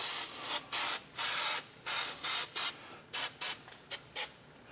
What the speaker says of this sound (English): this is flood film, just to try to help maybe keep her from rusting up too bad